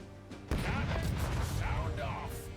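Cannon fire in the naval game Rogue Waters, a sudden heavy boom with a crashing, rumbling tail that fades over a couple of seconds, loud and close, with a voice talking underneath.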